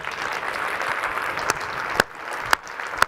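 Worshippers in a church cheer and applaud, a continuous bed of clapping and crowd noise with a few sharp, louder claps or bangs standing out near the end.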